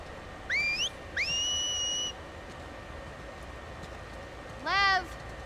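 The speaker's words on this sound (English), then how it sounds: "If I hear people whistling, bro, I'm gonna instantly just drop and start hiding, looking around." People whistling in The Last of Us Part II video game: two rising then sustained whistles close together, a pause, then a shorter rising whistle, clear over a quiet background.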